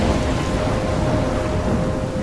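A thunderstorm in the video game Life Is Strange fills the air with heavy, steady rain and a low continuous rumble of thunder, loud and enveloping with no voices.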